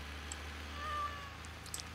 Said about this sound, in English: I'm sure that was a cat.